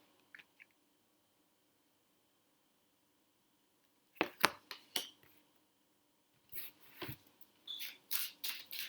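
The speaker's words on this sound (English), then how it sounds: "Did you hear the bottles?" Glass bottles clink and knock together in a quiet room: a couple of tiny taps, a pause, then two bursts of louder rattling clatter close by.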